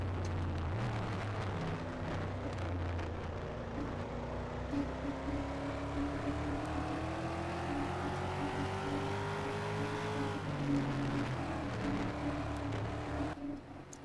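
A pack of race cars on a road course sweeping through the S-curves at the Budweiser All Star Series Rocky Mountain Grand Prix in Denver, engines droning steadily with shifting pitches, fairly distant and continuous.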